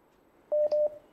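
Two quick telephone keypad dialing tones for an incoming call to a call-in show, clean and fairly faint beeps in close succession over a quiet background.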